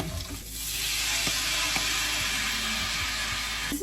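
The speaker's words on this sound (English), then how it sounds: "We're gonna deglaze with some red wine." Red wine hits a hot pan of crispy chicken bits for Chicken Puttanesca, bursting into a loud, continuous hissing sizzle right up close.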